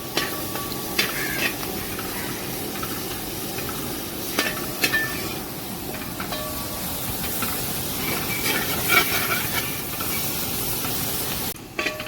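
Sliced onions sautéing in a pan while cooking duck roast, a steady close sizzle and hiss with repeated scraping and stirring clatters from a utensil against the pan, ending with a brief sharp cutoff.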